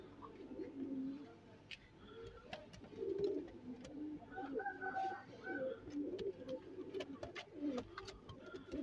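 Ferozpuri and Teddy pigeons coo softly close by, a quiet series of low, repeated throaty coos with scattered small clicks and rustles.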